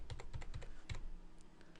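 Arrow keys on a computer keyboard are pressed several times in a steady rhythm of crisp, close clicks, then a couple of fainter taps, with no voices.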